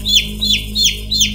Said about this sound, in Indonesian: Ayam betina muda yang ia bawa terus memberontak seakan tidak merelakan jika dijadikan sesajen.